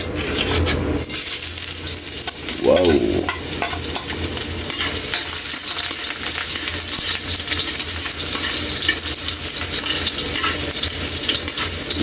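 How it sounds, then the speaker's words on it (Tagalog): Ginger sizzles steadily in a hot pan at the start of a ginataang tahong (mussels in coconut milk) dish, with a continuous close frying hiss and occasional stirring scrapes, no talk. "Ilagay na natin yung luya."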